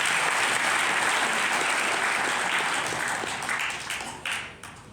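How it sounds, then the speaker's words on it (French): A church congregation applauds at a parish installation of a new priest in Bobo-Dioulasso, loud and dense clapping from a full room that gradually thins and fades toward the end. "donc applaudissez-les encore."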